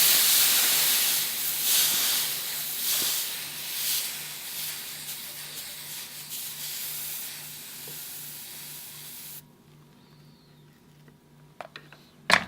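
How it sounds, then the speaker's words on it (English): Loud steam hisses and sizzles as a wet cloth is pressed to boat planking being steamed, a broad continuous rush that fades away near the end, leaving quiet with a few knocks. "let's try steaming this again"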